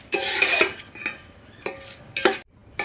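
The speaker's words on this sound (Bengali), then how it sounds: "চালটা এরকম কষা হচ্ছে, তার সঙ্গে কটা লবঙ্গ আর ডালচিনি দিয়ে দিচ্ছি।" Rice is sautéed with cloves and cinnamon in a pot for beef khichuri, giving repeated close scraping strokes of a spoon through the grains in irregular bursts, with no voices.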